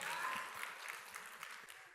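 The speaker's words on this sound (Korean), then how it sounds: "박수 한번 쳐주세요" A church congregation claps during a Korean sermon, producing a faint, somewhat distant patter of applause that is loudest at the start and gradually thins out.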